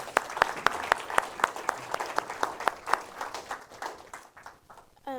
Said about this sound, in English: Give a round of applause, please, guys.